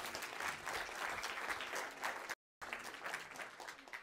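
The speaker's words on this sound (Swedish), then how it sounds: "Ge honom en varm applåd." Warm audience applause for a speaker at a Swedish talk on childhood cancer, dense steady clapping from a sizable crowd, broken by a short gap of silence midway before resuming.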